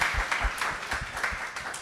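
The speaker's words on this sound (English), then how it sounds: "A round of applause." Brief audience applause at a talk event, a dense burst of clapping with a few low thumps, lasting under two seconds at moderate loudness.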